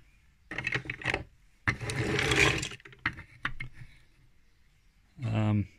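Screws on a turning 3D-printed InMoov robot bicep catch and scrape against the top piece, giving grinding, ratcheting mechanical bursts in short stretches, close and moderately loud, ending with a brief motor hum.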